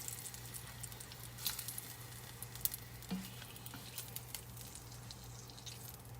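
Ham frying in a pan gives a soft, low-level patter of sizzling and small pops close by, with a faint steady hum beneath and no talking.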